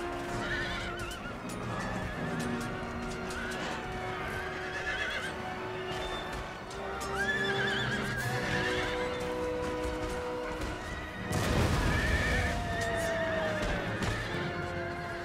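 Horses neigh and whinny repeatedly over clip-clopping hooves and the dense din of a cavalry battle in Empire: Total War, with a louder burst of clashing noise late on.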